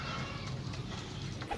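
A young female pigeon coos softly amid low background rumble, a faint brief call near the end of the short stretch, with pigeons for sale in Pakistan.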